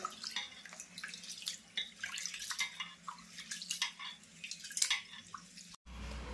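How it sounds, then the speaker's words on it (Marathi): Rice grains being rinsed in water for coconut rice, with steady splashing, dripping and swishing close by and no voices. "आता मी हा 2-3 पाण्याने स्वच्छ धुते"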